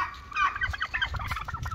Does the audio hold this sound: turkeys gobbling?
yes